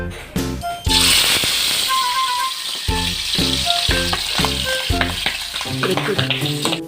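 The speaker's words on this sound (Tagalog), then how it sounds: "nakasalang po tayo ng 3 at naglalaban po, tumatasik po yung mantika" Hot cooking oil spitting and crackling in a pan as pieces fry, a loud close sizzle broken by a sharp splattering burst near the start, with scattered pops and light rattling throughout.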